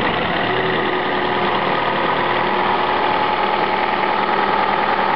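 A Toyota Prius engine runs steadily and loud during ECU tuning, its low mechanical drone holding an even pitch for the whole stretch with no voices over it.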